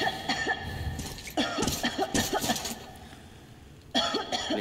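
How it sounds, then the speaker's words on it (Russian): A character in the Metro Exodus video game coughs repeatedly in harsh, irregular bursts, close and moderately loud, with short pauses between fits. "Да кашляй, кашляй."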